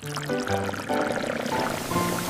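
Vinegar splashes and trickles from a container into a baking soda volcano in a short, quiet pour with gurgling liquid and no voices.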